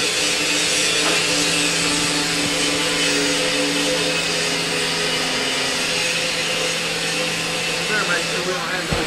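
A Tuffman 722 bag breaker trommel machine runs continuously, its spike-lined barrel turning on casters and giving a steady, loud mechanical whine and hum with faint rattles.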